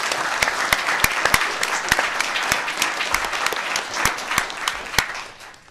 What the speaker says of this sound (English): So again, a round of applause to the panel